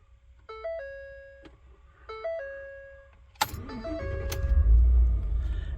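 A pickup truck's door chime rings twice as a clear two-tone ding-dong, then the engine cranks and catches, rising into a loud, rumbling idle close by.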